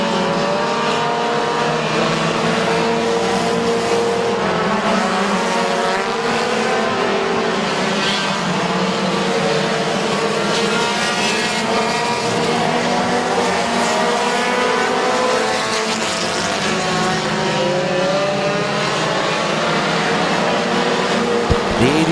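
Race cars roar around Midvale Speedway in a continuous, loud wash of engine noise as the pack laps, with revving swells and passing cars layered under a track announcer's commentary.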